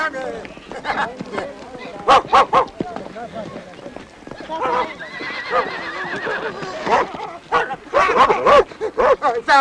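A dog barks in short, loud bursts during a scene from an Iranian film set among shepherds. Horse whinnies and talking voices are mixed in.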